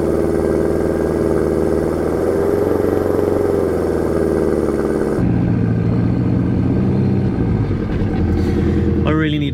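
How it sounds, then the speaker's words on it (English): A 4WD vehicle's engine drones loudly and continuously while driving back and forth through deep snow, the pitch rising and falling with throttle changes and shifting abruptly midway as the load changes. "attempting to float while driving back and forth to compact a track"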